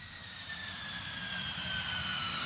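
A jet engine roars steadily during a vertical takeoff attempt of a fighter aircraft, a constant broadband rumble with a high whine slowly gliding in pitch, fairly distant.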